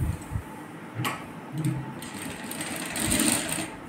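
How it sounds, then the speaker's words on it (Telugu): A sewing machine stitches piping onto a hand-cut blouse, going back over an earlier seam in a tailoring class; a steady run of fast mechanical clatter rises and falls in short bursts, fairly close, with no talking. "ఇందాక వేసిన స్టిచ్ మీదే వేస్తున్నాను మళ్ళీ."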